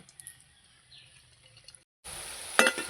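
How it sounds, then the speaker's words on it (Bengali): Nimki, rolled flour dough pieces, frying in hot oil: quiet at first, then after a brief gap a dense, loud bubbling sizzle rises and swells, with a few sharp crackles. "এইভাবে আমি নিমকিগুলো সব ভেজে নেব"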